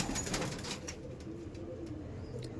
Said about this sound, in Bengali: এটা মেল পায়রা।